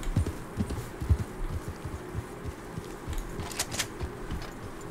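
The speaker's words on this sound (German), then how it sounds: "Pferd." Horse hooves clip-clop in Red Dead Redemption 2, a steady walking rhythm of close, distinct thuds over faint ambient wilderness noise, with no talking.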